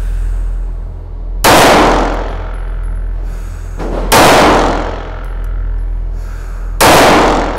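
Three sharp handgun shots ring out at a close-range drill at 3 yards, spaced a few seconds apart, each a loud crack followed by a decaying echo.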